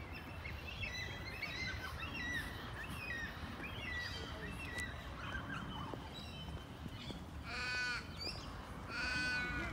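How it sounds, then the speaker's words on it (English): Noisy birds in the Western Australia Botanic Garden in Perth call repeatedly in harsh, cawing and warbling bursts over steady outdoor background noise, the loudest calls coming near the end. "There's those lovely birds in the background."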